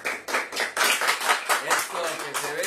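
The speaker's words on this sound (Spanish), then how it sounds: "Esos son aplausos orgánicos, ¿eh? Son de verdad, no es la maquinita esa aplaudidora." Live studio audience applause at the opening of a Spanish-language TV show, a dense burst of hand clapping that swells and pulses for a few seconds, loud and close, with no voices over it.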